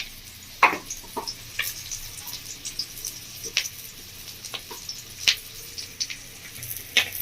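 Fish roe frying in a pan, a steady soft sizzle with scattered sharp crackles and pops spread across the stretch, close and moderately quiet, with no voices.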